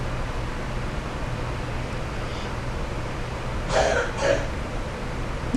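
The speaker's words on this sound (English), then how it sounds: "I can hear my 10-year-old in there coughing" A child of ten coughing in another room, two short muffled coughs heard at a distance over a low steady background hum.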